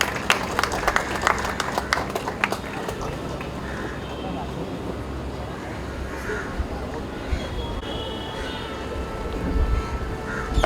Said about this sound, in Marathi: टाळ्या जरा जोरदार झाल्या तरी चालतील.